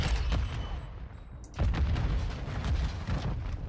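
Shredder shotgun fire in Modern Warfare 2: a dense, noisy run of booming blasts, with a sharper burst of shots midway and rapid heavy reports carrying on to the end.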